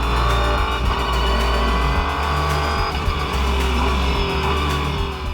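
Renault Sport RS01 race car downshifting hard into Stowe corner at Silverstone, a loud, close engine with repeated throttle blips and falling revs, and faint tire noise.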